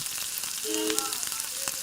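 Tomatoes with spices sauté in hot oil as a steady, close sizzle with faint stirring taps, the hiss holding even throughout with no voices.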